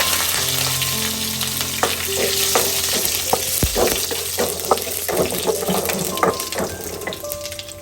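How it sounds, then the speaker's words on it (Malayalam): Curry leaves dropped into hot oil with popped mustard seeds for a breadfruit beef curry, crackling and spitting loudly in a busy, close frying sizzle with scattered sharp pops. "കടുകായിട്ടുണ്ട്, നമുക്ക് കറിവേപ്പില ഇടാം."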